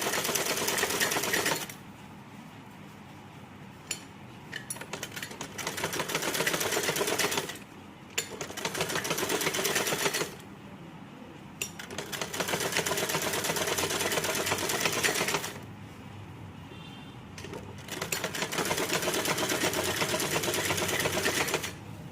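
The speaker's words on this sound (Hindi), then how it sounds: "इस तरह से इसको सिलाई लगाते जाएंगे पूरा।" An electric sewing machine stitches plain piping onto a blouse in four sustained whirring runs, separated by short quiet pauses while the fabric is adjusted.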